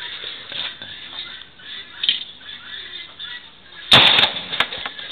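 A handgun fires at an outdoor shooting range in Cambodia, a loud close crack around the middle of the clip with a few quick follow-up bangs over steady background noise.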